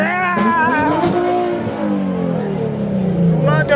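A twin-turbo G35 rolls up with its engine rising and falling in revs, loud and close among shouting and chatter from a crowd.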